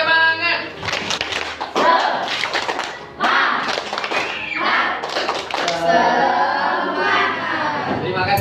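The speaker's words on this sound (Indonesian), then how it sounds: "Tepuk semangat." A classroom of pupils performs a rhythmic spirit clap in unison, bursts of patterned clapping and thumps close by, mixed with children's voices and chanting.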